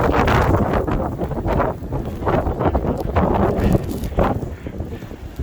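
Blizzard wind howls across a microphone in Temirtau during a snowstorm, a steady loud roar with surging gusts and rustling bursts throughout, with no voices.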